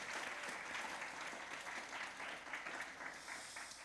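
A room full of people at a church young adults' gathering clapping steadily, a dense, sustained round of applause with no voices over it.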